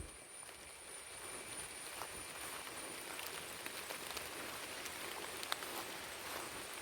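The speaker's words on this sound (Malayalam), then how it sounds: "മഴ ചെറുതായി പെയ്തു തുടങ്ങി." Light rain beginning to fall in a forest near the hills between Angamaly and Athirappilly, a soft steady hiss of scattered drops on leaves with a few sharper ticks, even and moderately faint throughout.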